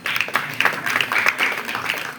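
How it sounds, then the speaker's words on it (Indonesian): An audience claps for Pak Bekti at an interfaith and intercultural prayer gathering, 'Doa Bagi Bangsa', at Taman Bhineka Nusantara. The applause is dense and steady, moderately close, with no break for about two seconds. "Tepuk tangan tuh Pak Bekti."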